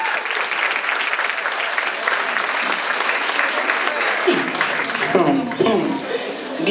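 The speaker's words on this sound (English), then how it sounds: "please clap for yourselves" A crowd at a fashion show claps loudly and continuously, then the clapping thins out toward the end as voices and a few cheers rise over it.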